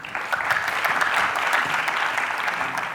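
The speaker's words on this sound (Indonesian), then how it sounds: "boleh tepuk tangan untuk Lindy" Brief, steady studio audience applause on a family quiz game show, a few seconds of dense clapping at even loudness.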